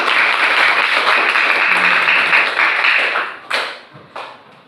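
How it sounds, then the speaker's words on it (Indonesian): A classroom audience applauds a student named Ketri, with dense, steady clapping for about three seconds, then fading into a couple of short scattered bursts. "kita berikan aplaus kepada Ketri"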